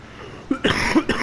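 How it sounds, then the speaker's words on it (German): One short, small human cough with a couple of quick bursts, close and fairly loud, with no speech around it. "Das war nur ein kleiner Husten."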